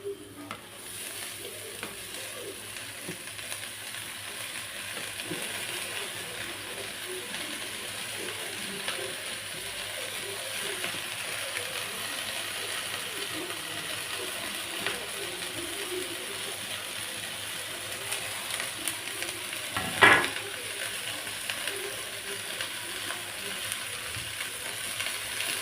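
Finely chopped drumstick leaves stir-frying in a hot pan over a high flame, a steady close sizzle with scraping and clicking of a spatula throughout and one sharper knock near the end, no talk.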